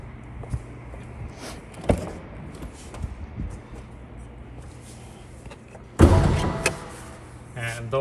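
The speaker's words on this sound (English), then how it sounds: "Let's open up the car." Quiet handling noises and a few soft clicks, then a sharp mechanical clunk of a 2021 BMW M4 coupe's door unlatching and swinging open, followed by rustling.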